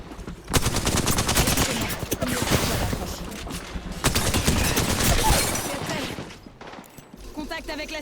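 Video game gunfire from Apex Legends or CS2, with dense bursts of rapid automatic shots in two long volleys and a pause between them. Voices and game sounds are mixed in.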